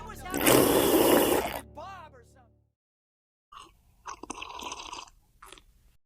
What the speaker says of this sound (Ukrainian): Раптом хтось гучно сьорбнув чай.